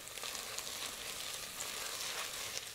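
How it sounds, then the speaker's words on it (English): Tomato paste is stirred into a pot of vegetable soup with alphabet pasta. A soft, steady sizzle holds throughout at low volume, with faint stirring and no talking. "Now I've got 2 tablespoons of tomato paste, so we'll add that into it and give that a stir around."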